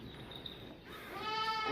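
A mother goat bleats softly just after giving birth to a single healthy kid, a faint wavering cry rising near the end over quiet background.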